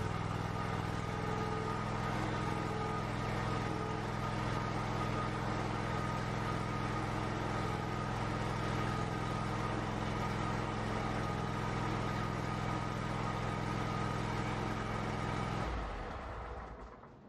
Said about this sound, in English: start and run the engine to test fuel pressure